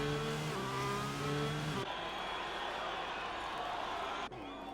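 Racing cars during a race in Hungary, high engine whine with shifting tonal revs from nearby cars that cuts abruptly to a quieter distant roar, steady and fairly faint overall.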